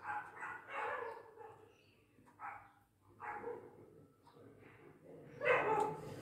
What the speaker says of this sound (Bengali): কুকুরগুলো কেমন উৎপাত করছে দেখেছো